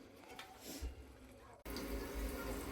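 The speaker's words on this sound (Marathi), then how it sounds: "याच्यावरती आपण आता एक ताट ठेवूयात आणि त्याच्यामध्ये पाणी ओतून ठेवूयात" Water is poured into a plate set on top of a cooking pot, a faint trickle that turns into a steady, fuller splashing stream partway through, heard close and fairly quiet.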